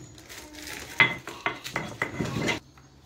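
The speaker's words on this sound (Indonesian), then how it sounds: "Mari kita giling cabenya dulu" Chili peppers are ground by hand in a mortar for jengkol sambal, heard as a series of close knocking and scraping strokes of the pestle at an uneven pace, then a quiet stop.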